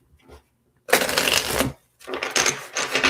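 Tarot cards shuffled by hand in quick riffling bursts, a short rustle followed by two longer close-up shuffling runs separated by brief pauses, with no talking.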